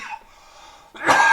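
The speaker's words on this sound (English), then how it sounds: "oh, excuse me, COVID cough." A single sharp, close cough bursts out near the end, after a moment of faint breathy sound.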